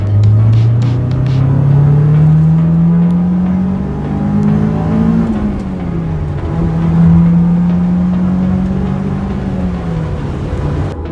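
A 2003 Honda S2000 engine with VTEC pulls hard under acceleration, its loud rising drone climbing in pitch, dipping briefly at a shift, then rising again in a second sustained pull.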